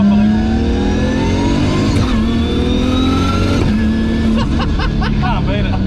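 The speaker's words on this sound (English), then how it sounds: "That noise the transmission makes." A 1,200 hp Nissan Skyline R34 GT-R with a sequential gearbox pulls hard from inside the car, a loud engine roar under a steady high transmission whine that climbs and drops through several shifts.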